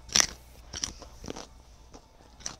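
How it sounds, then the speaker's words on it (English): Crunchy bites of a carrot as a video game sound effect in Danganronpa, a loud sharp crunch followed by several softer crunching bites spaced across the moment. "That deserves a carrot crunch."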